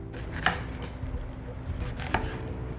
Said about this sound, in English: So I'm gonna chop those all up.